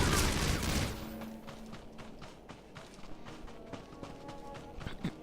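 Blaster gunfire in Star Wars: The Old Republic during a smuggler's mission on Makeb: rapid clusters of sharp shots after a loud opening burst, spread over a busy game background.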